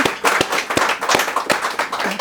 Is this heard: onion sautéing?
no